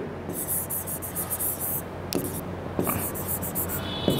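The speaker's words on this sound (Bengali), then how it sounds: "এখানে লিখে দিচ্ছি সব কিছু" A marker squeaks and scratches across a classroom board in short bursts with brief pauses between strokes, close and clear over a low steady background hum.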